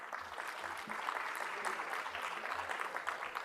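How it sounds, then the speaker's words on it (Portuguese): Applause rises from an audience at a public governance panel in Brazil, a soft, fairly distant wash of many hands clapping that holds steady at low level for a few seconds. "recebam com uma salva de palmas"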